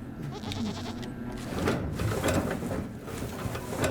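Goats in the wolf-and-deer co-op video game Howler bleat several times over soft background game sounds, the calls fairly quiet and overlapping in the middle stretch.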